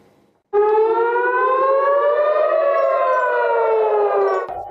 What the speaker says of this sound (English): Every night in Israeli cities begins with the sound of air raid sirens.